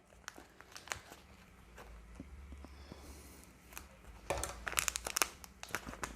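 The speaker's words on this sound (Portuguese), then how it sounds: "vou cortar um pouquinho mais a minha manga" A plastic piping bag for homemade cakes is cut and handled up close, giving crinkling and rustling with sharp snips that grow busier and louder toward the end.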